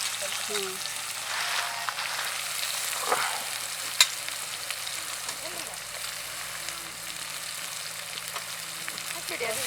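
Thinly sliced onions frying in hot ghee, a continuous bright sizzle with occasional stirring scrapes and a sharp clink, close up, with a voice speaking faintly in the background.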